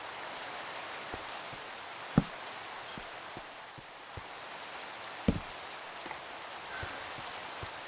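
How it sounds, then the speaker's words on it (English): Rain falls in the Minecraft Skyblock game as a soft, steady hiss, with scattered small drip ticks sounding faintly throughout. "here comes the rain"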